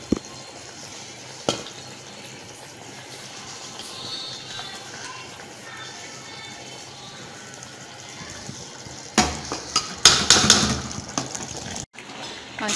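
Beef achar gosht being stirred in a pot, a steady low bubbling and scraping with a soft sizzle throughout, then louder, sharper clanks and scrapes toward the end.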